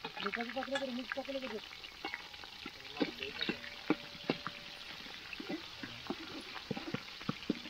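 Onion fries in a pot over an outdoor wood-fired stove, a soft sizzle with scattered crackles and stirring knocks, fairly faint, as people talk nearby.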